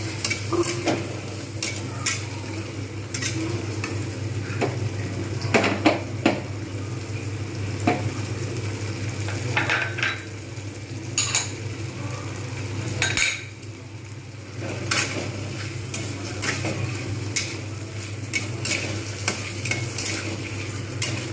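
Roasted coriander-cumin powder is sautéed and stirred in a pan, with a spoon repeatedly scraping and clinking against the metal over a low, continuous sizzle.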